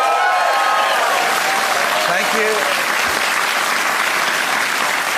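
Studio audience applause on a TV talk show fills the clip with steady, loud clapping, and a voice briefly speaks over it.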